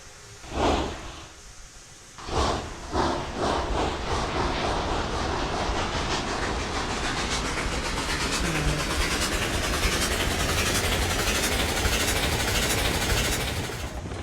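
A locomotive pulls a train in the railroad game Railroads Online, building from a few chuffs into a continuous loud rumble with rhythmic rail clatter, heard alone without talk.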